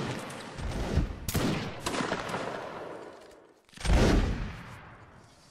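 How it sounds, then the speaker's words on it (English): A cannon firing during a line battle video game, heard as booming gunfire blasts with a loud report at the start and another heavy boom later, amid continuous musket fire and battlefield noise. "That was a cool cannonball."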